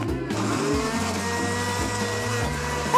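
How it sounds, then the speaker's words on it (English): Blender whirring as it purées banana, kiwi and raspberries, a loud, steady motor drone whose pitch steps up and down slightly for about three seconds, with no talking. "I'll put it in the blender."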